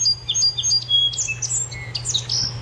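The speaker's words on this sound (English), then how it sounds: "It's a spring sparrow, by the way." A spring sparrow call plays as a recording: a series of bright, high chirps and short trills, some brief and repeated, over a steady low hum, with no one talking.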